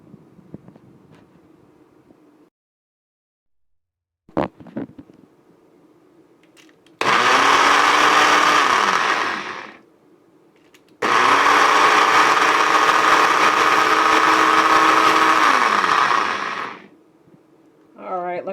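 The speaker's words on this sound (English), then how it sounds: "Then I'm going to blend this until it's a homogenized, flavored, yummy" A blender whirs through garlic and oil in two loud bursts, one about two seconds long and a longer run of roughly six seconds, with the motor pitch sliding as it spins up and winds down. Quiet kitchen noises come before it.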